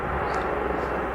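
Helicopters running at an airport, heard as a steady distant engine whine and broadband roar that fills the whole moment without change.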